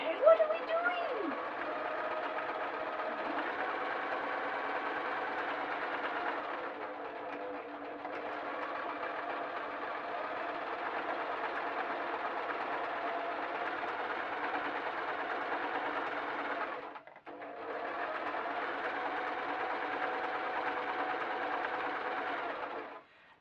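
A sewing machine runs steadily while stitching a bum warmer for an English saddle, its close, continuous whir broken by two brief pauses before it starts up again.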